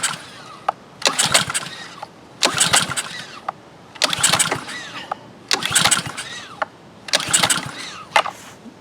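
A seldom-used, stubborn Honda GCV160 engine on a Ryobi pressure washer is pull-started repeatedly, six loud recoil-cord yanks in a steady rhythm, each a brief whirring crank that never catches into running.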